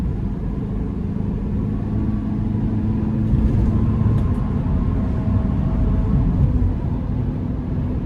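A 2023 Sprinter conversion van with a turbo four-cylinder and nine-speed automatic drives on the road, heard from inside as a continuous low engine and road rumble with a slight rise midway, no talking.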